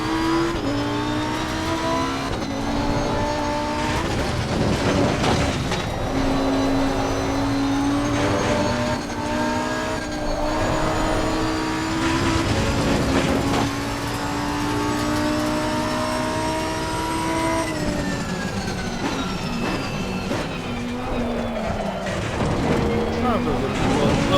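A Lamborghini race car in Assetto Corsa Competizione, its engine droning and rising through gears with shifting pitch, steady and loud, while someone talks over it at times.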